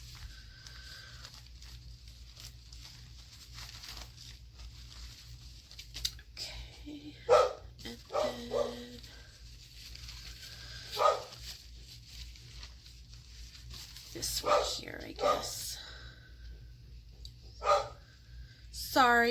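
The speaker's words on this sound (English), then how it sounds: "Sorry if you can hear my dog barking." A pet dog barks in short scattered bursts from another room of a home, several sharp woofs in the background while a person talks quietly nearby.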